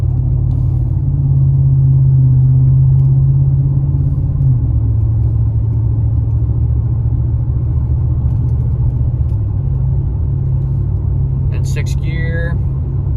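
A 2015 Ford F-150 with the 5.0 V8 and a Black Widow Venom 250 exhaust cruises in sixth gear, its low, steady engine drone heard from inside the cab with little change under light throttle, while a voice talks over it.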